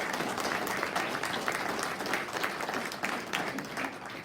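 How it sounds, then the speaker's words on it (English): Steady applause from an audience at a party AGM, dense clapping sustained throughout at a fairly even level with a faint crowd murmur underneath. "I want us to give him a round of applause right now."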